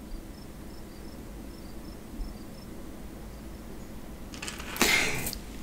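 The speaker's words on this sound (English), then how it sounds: "I love a settled in outro, just crickets." Crickets chirp in a quiet, regular pulse against a soft background hiss, joined near the end by a brief burst of broadband noise.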